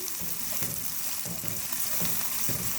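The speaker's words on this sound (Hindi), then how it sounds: "सबसे पहले हम प्याज को थोड़ा सा ब्राउन करेंगे।" Onions browning in a pan for an arvi baingan sabzi, a steady close sizzle and crackle with occasional stirring scrapes.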